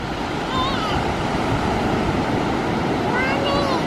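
Ocean surf breaking continuously at an Australian beach, a loud broad wash of waves with wind buffeting the microphone, while faint whistling tones drift through and distant voices sit under the roar.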